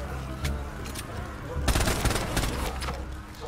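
Glock pistol shots in Black Ops 3 Zombies ring out in quick, sharp bursts over a low game rumble, thickening into a dense volley during the second half.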